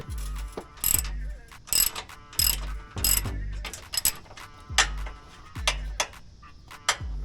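A ratchet loosens 12 mm bolts on the lower front bumper of a 2019 Nissan Titan, clicking in repeated bursts with a few faint voices underneath.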